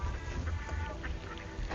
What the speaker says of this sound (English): We have a duck crossing right here.